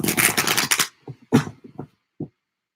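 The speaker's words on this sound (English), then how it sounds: "One more shuffle." A quick riffle of tarot cards shuffling, followed by a few soft taps and clicks as the deck is squared, close and clear.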